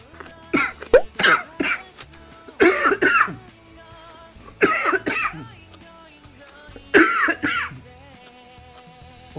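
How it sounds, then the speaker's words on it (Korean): Repeated coughing and throat clearing from a person eating grilled LA galbi and pork belly wrapped with aged kimchi and onion, coming in four close, loud bursts with quiet pauses between them. No words are spoken. "먹방 하는데 내가 왜 기침이 나오냐?"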